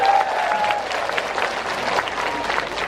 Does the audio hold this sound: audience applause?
yes